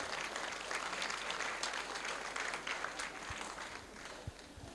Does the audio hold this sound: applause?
yes